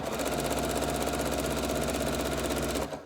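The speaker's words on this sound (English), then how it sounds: "I'm always sewing into all the layers" A sewing machine runs steadily as it stitches through quilt layers for a border, its fast even mechanical chatter close and continuous, then stopping abruptly near the end, with no voices.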